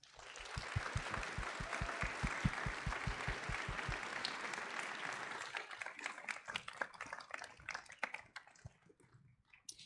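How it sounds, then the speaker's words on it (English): Applause from an audience at a physician assistant white coat ceremony: steady, full clapping that swells early, with a few louder individual claps in front, then gradually thins out toward the end. "You owe yourselves and your classmates a round of applause"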